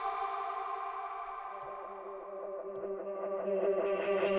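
A synthesized tone passes through an echo effect with feedback, its sustained harmonics smearing and repeating as the sound swells slightly louder toward the end.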